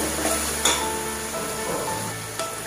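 Vegetables sizzle and are stirred in a pan with ground nut paste while a vegetable polao is cooked, a steady frying hiss with a few light clinks of the spoon against the pot, close and continuous.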